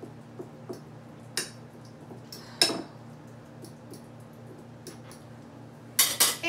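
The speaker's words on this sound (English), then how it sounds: "what I want to do is mash my yams a little bit" Canned yams mashed with a metal utensil in a bowl, giving sparse scattered clinks and scrapes at irregular intervals, with a louder cluster of clatters near the end, over a steady low hum.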